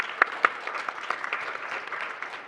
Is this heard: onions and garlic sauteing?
no